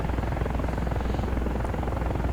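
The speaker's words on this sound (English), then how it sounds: "we're in the KA-50 basically, but with the AH64 skin on it, that gives us our Hellfires and our rockets, as also the chain gun" A KA-50 attack helicopter wearing an AH-64 skin flies in the DCS World combat flight game, its rotor giving a steady, loud, rapid chopping thrum throughout.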